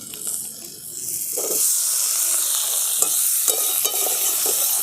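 Chopped tomatoes go into a pan of lightly fried onions, setting off a bright hissing sizzle that swells and holds, with a few stirring scrapes near the end, close up.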